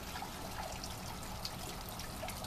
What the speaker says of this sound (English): this water fountain here. As you can see right now, it's sucking air and needs to be filled up.